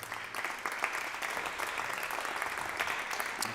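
Crowd at a pool match, the Predator WPA World 8-Ball Championship, applauding a shot, steady moderate clapping throughout with no pause.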